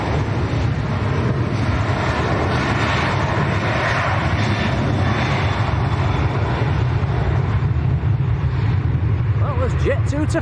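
A Jet2 airliner on a flight to Faro at Manchester Airport produces a loud, sustained engine roar with some wind buffeting, steady from start to finish, while people talk over it.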